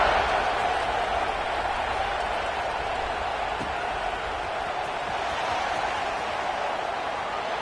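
Steady roar of a stadium crowd in the NCAA 26 college football video game, a dense, continuous wash of cheering and murmur that holds at an even level throughout with no distinct voices standing out.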